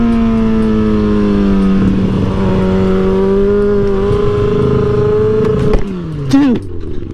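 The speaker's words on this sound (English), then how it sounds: "I'm gonna do some rips and you aren't really comfortable on this bike when we're accelerating hard" A motorcycle on a road drones with a strong, steady engine hum close by, then revs hard and climbs sharply in pitch near the end. There is no talk.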